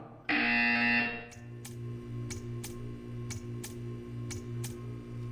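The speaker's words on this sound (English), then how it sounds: "You will hear a buzzer." A loud electronic buzzer sounds in the Portal 2 video game, a short harsh tone over a humming background, followed by a series of regular ticking clicks.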